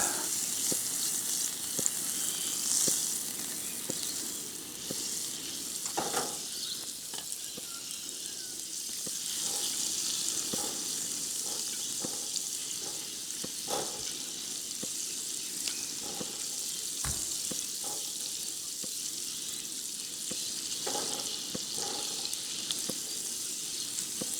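Butter melts and sizzles in a pan over a camp stove, a steady close frying hiss with small pops and the odd clink, with no one talking.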